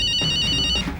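A telephone rings with a steady electronic ringtone, a bright sustained tone that cuts off near the end of the single second, heard clearly over a quiet indoor room.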